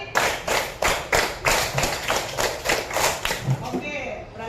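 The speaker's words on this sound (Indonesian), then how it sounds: "tepuk 5 2 kali" Classroom students clap together in a fast rhythmic pattern, sharp group claps in even bursts, close and fairly loud.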